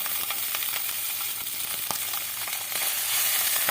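Tangra fish fry in a little oil with a loud, continuous sizzle and scattered crackles and pops that swell slightly toward the end.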